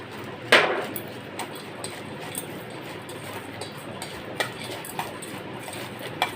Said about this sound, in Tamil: நல்லா கிளறி வைக்கணும்.